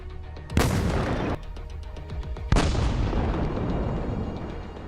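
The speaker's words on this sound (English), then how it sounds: "Shots fired." Battlefield gunfire between Ukrainian and Russian forces: two heavy, booming blasts go off nearby, each followed by a long rumbling decay, over a background of rapid distant cracks.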